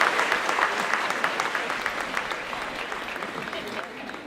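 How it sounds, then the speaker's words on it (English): An audience at an anniversary scholarship celebration claps for the scholars' parents, a full, even roar of many hands, loudest at first and tapering slightly as it continues. "how about giving them a round of applause for what they did for you"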